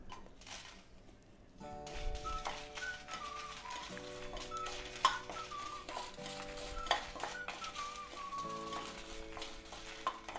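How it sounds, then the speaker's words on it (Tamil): Dried red chillies frying in a small amount of oil, a quiet crackling sizzle close by with occasional clinks of a spoon against the pan and a faint steady hum underneath; no speech. "முதல்ல காஞ்ச மிளகாய் வறுத்தெடுத்துடலாம்"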